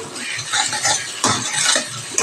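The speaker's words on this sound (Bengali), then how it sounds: "দেখো আমি ডিমগুলো দিয়ে দিয়েছি, আর এগুলো এখন ভালো করে ভেজে নেব কুচি কুচি করে।" Eggs fry in hot oil in a pan while being stirred and chopped up, giving close crackling sizzle with irregular scraping and clinking of a utensil against the pan.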